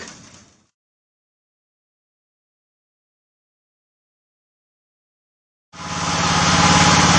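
A brief burst of noise fades into silence, then a wood gasifier-fed engine generator starts up and runs steadily, loud and droning with a low rumble.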